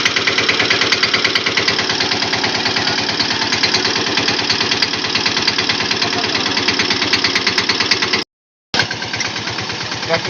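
A tractor engine runs loud and close on a farm, a dense rapid chugging that holds steady, cuts out for a moment, then resumes.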